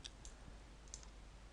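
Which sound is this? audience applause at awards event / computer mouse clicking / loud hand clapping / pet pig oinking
computer mouse clicking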